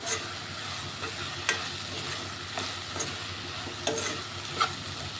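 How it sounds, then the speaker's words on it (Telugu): Okra curry cooking in a pan with salt, chili powder and chopped tomatoes being stirred, giving a steady soft sizzle broken by several sharp spoon scrapes and clinks, close and continuous with no talking. "ఒకసారి కలిపి వేసుకుంటున్నాను ఉప్పు కారం టమాటాలు వేసుకున్నాను"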